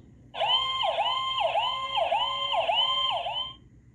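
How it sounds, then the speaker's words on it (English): An ambulance siren wails in a steady repeating up-and-down cycle, loud and close for about three seconds before cutting off, with no other sounds around it. "Ambulance."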